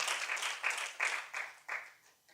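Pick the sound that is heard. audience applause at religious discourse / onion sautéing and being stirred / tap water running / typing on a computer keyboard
audience applause at religious discourse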